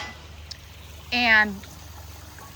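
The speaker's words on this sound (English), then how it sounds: "look at how great the fountain looks, the waterfall" Water in a backyard fountain and boulder waterfall at Lake San Marcos runs in a faint, steady wash, and one brief spoken word cuts in partway through.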